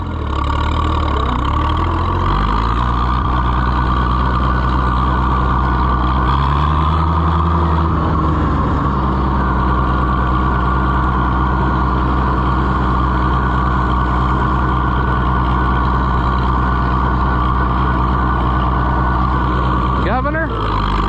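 An Oliver 77 tractor engine runs loud and steady while driving, a continuous low drone that shifts pitch around the middle as it changes gear, with a brief higher mechanical sweep near the end.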